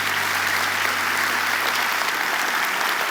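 A church congregation claps together in worship, loud, even applause filling the room without a break.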